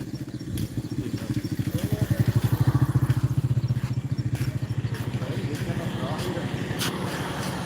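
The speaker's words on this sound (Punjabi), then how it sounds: "ਚਲੋ ਕੱਢੋ ਮੋਟਰਸਾਈਕਲ" A motorcycle engine running close by, heard as a loud, steady low thudding putter that swells and eases slightly, with no talking.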